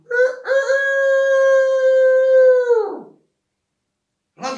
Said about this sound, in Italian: E rispondeva un altro gallo, dall'altra campagna.